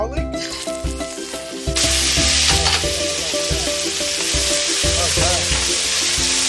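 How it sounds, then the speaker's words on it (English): Garlic sizzling in hot oil in a pan, a loud, steady, close frying hiss that swells suddenly as it hits the oil, with music playing underneath throughout. "we have a nice pan with oil. We're going to add our garlic."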